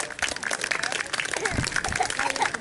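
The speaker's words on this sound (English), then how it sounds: "give her a clap, guys, let her know it's going well" Outdoor audience at a birds of prey display at an agricultural show claps for a landing raptor; dense, steady applause throughout with voices and a bird's calls mixed in.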